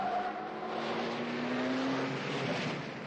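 A 1973-era Formula 1 car takes a slow corner in first gear, its engine note droning and rising in pitch, fairly faint and distant, with a soft background rumble.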